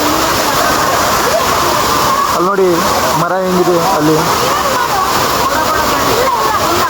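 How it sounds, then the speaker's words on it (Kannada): Water rushes loudly and continuously at Amboli waterfall, a dense close roar throughout, with someone speaking over it partway through. "ನೀರಂತೂ ಬರ್ತಾ ಸ್ಪೀಡ್ ಆಗ್ತಿದೆ."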